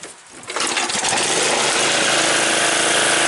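A small self-propelled lawn mower engine cranks and catches with a little throttle, jumping from a brief quiet pull into a loud, close, steady running drone.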